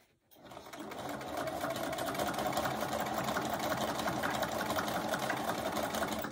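A sewing machine stitching a quarter-inch seam on a beginner mug rug runs steadily for several seconds, a fast, even mechanical whir and clatter heard close and fairly quiet, with no talking.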